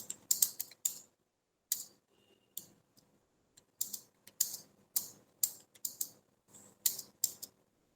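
Keys clacking on a computer keyboard while entering figures into an MS Excel 2013 salary sheet: rapid bursts of crisp clicks separated by short pauses, close and fairly loud, with no talking.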